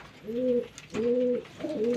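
Pigeons cooing in a loft during the rainy season, three rounded, repeated coos close by with short gaps between them and no talking.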